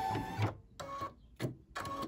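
Embroidery machine stitching a mug rug in the hoop: four quick bursts of rapid, rattling needle stitching, separated by short silent pauses, close and clear.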